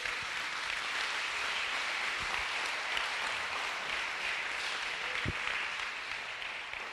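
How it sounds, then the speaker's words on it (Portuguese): A church congregation applauding during a sermon: dense, sustained clapping from a large crowd holding at an even level for several seconds, somewhat distant, with no voices over it. "Você pode aplaudir o Senhor Jesus."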